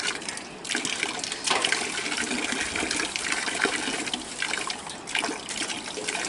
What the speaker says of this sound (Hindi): पानी गिरो पहले सिर पर